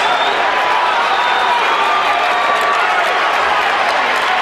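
A boxing crowd boos Floyd Mayweather at the end of a round in his bout with Carlos Baldomir, a loud, steady roar of many voices filling the arena without a break.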